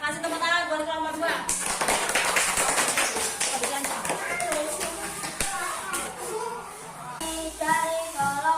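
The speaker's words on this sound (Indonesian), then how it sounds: "kasih tepuk tangan buat kelompok 2." Schoolchildren in a fourth-grade classroom clap for a presenting group, rapid scattered claps that rise and fall over several seconds, mixed with children's voices and chatter.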